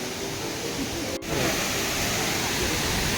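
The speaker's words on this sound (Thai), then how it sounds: "นี่ เป็นน้ำตกเล็กๆนะครับ" Small waterfall at Huai Tueng Thao in Chiang Mai, a steady, dense rush of falling water that fills the whole stretch, close and even, with one brief dip partway through.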